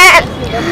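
A young boy mimics a goat's bleat with one short, quavering cry that fades quickly into a softer trailing breath, heard up close.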